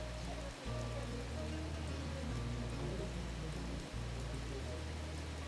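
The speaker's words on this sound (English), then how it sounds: "It is pouring right now. Lots of rain and a lot of lightning." Pouring rain during a thunderstorm at Disney's Animal Kingdom Kidani Village resort makes a dense, continuous hiss of falling water over a low rumble, with a voice faintly present.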